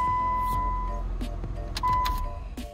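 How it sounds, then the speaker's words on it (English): A 2007 Chrysler PT Cruiser convertible sits with its engine running at a low, steady hum, joined by a sustained electronic chime tone and a few light clicks and knocks. "You can see the car starts."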